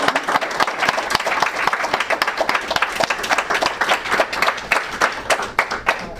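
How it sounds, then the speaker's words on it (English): Sustained applause from an audience after student research presentations at an education and social justice event: dense, continuous clapping from many hands throughout, with no talking heard. "One more round of applause."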